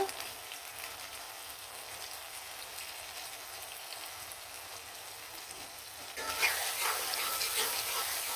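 Shrimp dropped into hot oil with already fried onions, giving a steady hiss of frying that swells louder near the end as the shrimp go in, close by and without talking.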